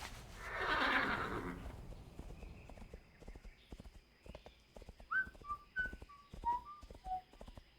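A horse in the World of WarCraft video game lets out a loud, close whinny at the start, followed by a steady clip-clop of hooves and a run of short melodic whistle notes.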